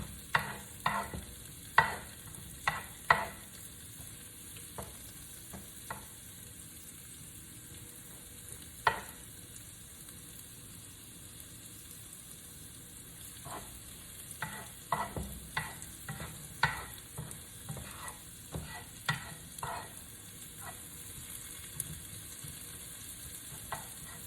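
Onions fry in a pan for cauliflower chicken fried rice, a steady sizzle under irregular clicks and scrapes as a utensil stirs them, close and with no talking.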